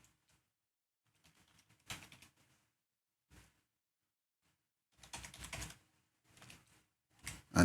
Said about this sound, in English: So I'll just go ahead and click my username and type my password.